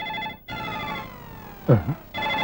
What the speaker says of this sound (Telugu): ఫోన్ రింగ్ అవుతుంది అక్కడ